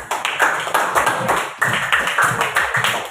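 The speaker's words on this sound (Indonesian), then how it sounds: "Beri tepuk tangannya mana?" A classroom audience clapping, a brisk burst of hands that starts, pauses briefly, then resumes close and fairly loud.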